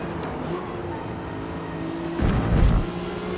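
Drift car engine in the Forza Motorsport online racing game, a steady droning hum through the whole stretch that swells louder and rougher near the end as the car pushes harder.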